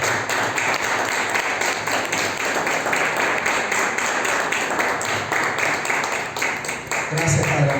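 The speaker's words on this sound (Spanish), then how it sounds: "Démosle un fuerte aplauso al Señor." A church congregation gives sustained, steady applause, a dense wash of clapping that carries on unbroken from start to finish.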